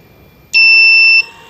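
A battery-powered electric sprayer with a swollen battery sounds its alarm: a loud, steady high-pitched electronic beep held for under a second, then starting again, close and alone.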